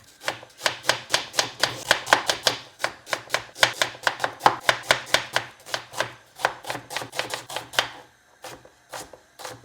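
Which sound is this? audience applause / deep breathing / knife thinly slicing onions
knife thinly slicing onions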